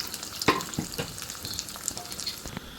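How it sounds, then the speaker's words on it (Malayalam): Green chillies and shallots fry in hot oil with a steady sizzle, punctuated by sharp crackles and spoon clinks against the pan, close and with no talking. "അതിലേക്ക് പച്ചമുളക് കൂടി ഇട്ട് കൊടുക്കുന്നുണ്ട്"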